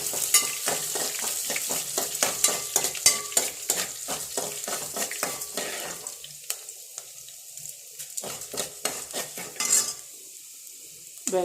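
Onions frying in a pan while upma is prepared in a home kitchen give a close, steady sizzle with repeated stirring scrapes and clinks, easing into quieter crackling toward the end.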